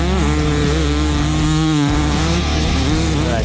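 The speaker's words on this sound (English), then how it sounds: "I have more fun on this two-stroke than riding my four-stroke" A two-stroke dirt bike with a tiny, very short muffler rides across smooth sandy ground. Its engine buzzes loud and close throughout, with the pitch dipping briefly partway through and then climbing again.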